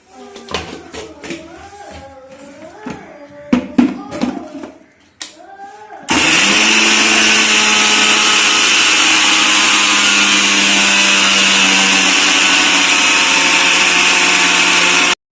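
A mixer grinder grinds roasted rice into flour for avalose, starting abruptly after a few seconds of people talking and then roaring loudly and steadily with a high whine until it stops.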